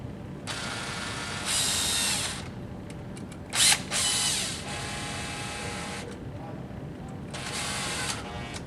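Power drill driving screws into a 220 volt L6-20R outlet, a close whirring whine in several bursts of a second or two with short pauses and a brief clunk between them.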